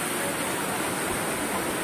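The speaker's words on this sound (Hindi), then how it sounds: "फॉल के एकदम सामने पहुँच गया हूँ, इधर आने के बाद तो हवा भी लग रहा है" Steady broadband roar of a waterfall at the Chandubi picnic spot near Guwahati, heard up close, loud and continuous with no talking.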